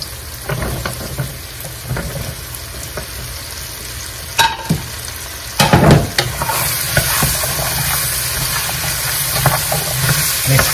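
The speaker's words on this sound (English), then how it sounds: "Mix them very well." Carrots and potatoes are stirred in a hot pan for a vegetable biryani, with a steady sizzle under repeated scraping and clattering strokes of a utensil, loud and close, swelling toward the end.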